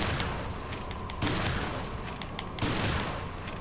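Enemy gunshots in Resident Evil Revelations, a few muffled bursts of fire spaced about a second apart within dense, steady combat noise.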